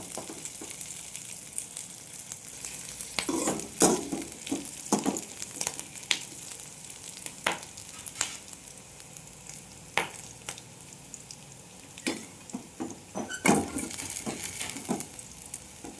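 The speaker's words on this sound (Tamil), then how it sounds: "இதை நல்லா வதக்கிக்கலாம் இதை நல்லா வதக்கிக்கலாம்" Broad beans sizzle and fry steadily in a hot pan, with occasional scraping and stirring clicks from a spoon, no voices.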